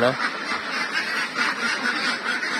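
A dense flock of ducks around 8 to 9 months old quacks continuously on a farm, a steady, close chorus of overlapping honking calls with no pauses.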